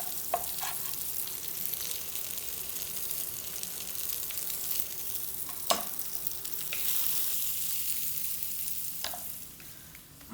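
Zucchini and garlic sautéing in a pan, a steady crackling sizzle with occasional clinks and scrapes of stirring, heard close with no voices.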